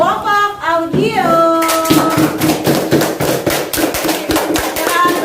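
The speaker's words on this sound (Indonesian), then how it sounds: "Beri tepuk tangan untuk kelompok audio" A group in a classroom session claps for another group, with sharp, close handclaps in a quick uneven rhythm that start after a brief bit of voice and continue to the end.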